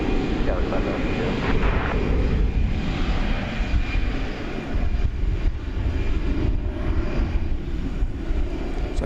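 American Airlines flight 192 to Barcelona departing DFW Airport at night: a loud, sustained jet engine roar with deep rumble that holds steady throughout, and faint talk beneath it.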